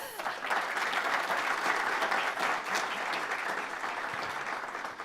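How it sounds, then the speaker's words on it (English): Moderate applause from an audience at a pitch-style event for a presenter named Chris, a dense, even round of clapping that holds steady for several seconds at a moderate distance. "Big round of applause for Chris."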